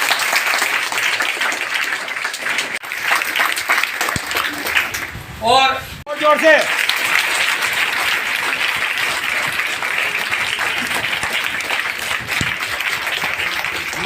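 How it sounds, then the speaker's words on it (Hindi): Schoolgirls clapping together in a classroom, a steady, dense patter of applause running the whole time, with a voice briefly speaking over it midway. "ताली बजाओ बेटा"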